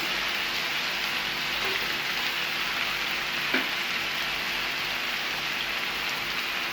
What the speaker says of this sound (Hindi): इसको फ्राई करते हुए 1 मिनट हो चुका है।